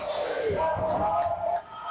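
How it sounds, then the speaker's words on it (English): Loud, dense crowd roar at a hockey game between the Wings and Rangers, a sustained wash of cheering and shouting that stays steady for most of the stretch before dipping slightly near the end. "Crowd's going wild out there."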